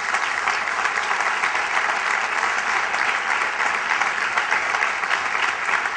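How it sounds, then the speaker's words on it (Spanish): A large audience at the closing session of the PSN-PSOE extraordinary party congress breaks into steady, dense applause that holds at an even, loud level throughout, with no voices rising above it. "Un aplauso para él."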